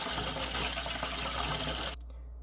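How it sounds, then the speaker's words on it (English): Eighty milliliters of water pours into a candy mixture for homemade lollipops, a loud, close, continuous rushing splash that stops sharply after about two seconds, leaving faint background hum. "80 milliliters of water going in"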